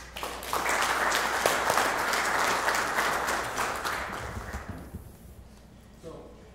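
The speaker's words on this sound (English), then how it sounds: "everybody please help me in welcoming Dr. Alan Louie." Sustained applause from an audience at an industry talk fills the room for several seconds as a speaker is welcomed, then fades out to quiet near the end.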